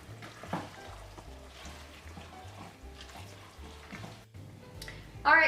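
Hamburger meat browns with bell pepper in a pan for chili, giving a soft sizzling crackle under quiet background music, with a louder burst of frying at the end.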